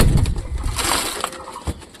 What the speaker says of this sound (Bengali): তো কবুতরদের এখন খেতে দেবো।